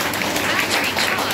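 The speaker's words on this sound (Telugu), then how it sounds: "చప్పట్లు కొట్టాలి." A church congregation at a Sunday worship service in Kopalle claps hands together, a dense, steady wash of applause filling the room continuously for the whole moment.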